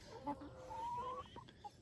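A Whiting hen, a patterned chicken on a small farm, gives a few soft, near clucks and murmuring calls over a low background.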